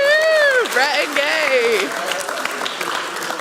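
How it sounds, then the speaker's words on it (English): Applause at a marriage seminar, steady clapping mixed with whoops and cheering voices near the start, settling into plain clapping that fades slightly. "big round of applause for the Butlers"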